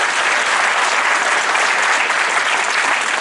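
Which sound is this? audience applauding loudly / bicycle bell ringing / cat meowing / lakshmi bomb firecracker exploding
audience applauding loudly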